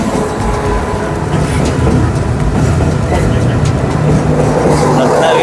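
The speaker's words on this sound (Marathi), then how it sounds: "आणि बघा ही ट्रेन आली आहे." Ratnagiri–Diva passenger train pulling into a Konkan station in the monsoon, a steady loud rumble and rolling clatter of wheels and carriages filling the whole stretch with no let-up.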